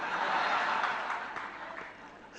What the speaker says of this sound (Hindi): गुरु के नाम पर तो अपन ने तालियां बजा दी